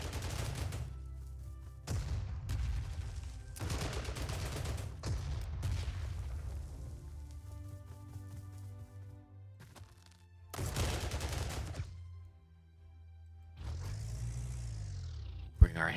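Bursts of gunfire and booms from an artillery attack in the Panzer Corps II wargame, several loud volleys separated by brief gaps, with a rising whistle-like sweep near the end.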